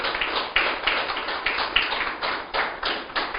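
A church congregation claps together during a Spanish-language sermon, a steady run of rhythmic hand claps at moderate loudness with no voices over them.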